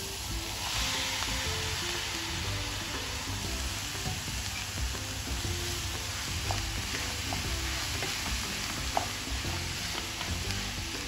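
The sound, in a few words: dal being added and sautéed in a pan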